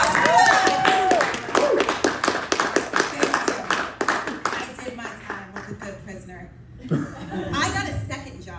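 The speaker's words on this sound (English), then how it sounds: "Can we get a round of applause for that?" A comedy club audience claps in rapid, dense applause that gradually thins to scattered claps, with a voice and some laughter mixed in.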